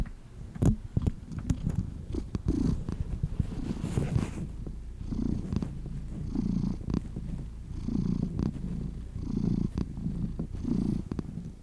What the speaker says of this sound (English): I feel like we need to get cat sounds. Authentic cat sounds.